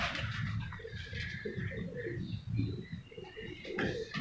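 Teddy breed racing pigeons coo in a pen in Mianwali, low throaty pulses repeating unevenly over a hissy, busy background, with a few higher chirps above.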